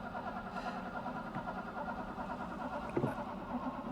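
An old Mercedes-Benz engine cranks with a low, rhythmic churning that is steady and muffled, trying but not catching, with a brief click near the end.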